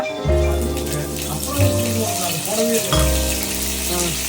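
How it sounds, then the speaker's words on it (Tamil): Fennel seeds and curry leaves crackle and sizzle in hot oil for a Tamil-style prawn thokku, a steady close frying hiss with a few louder pops, with no talk over it. "அப்புறம் நான் சோம்பு தாளிச்சிட்டேன். அப்புறம் கொஞ்சோண்டு கருவேப்பிலை,"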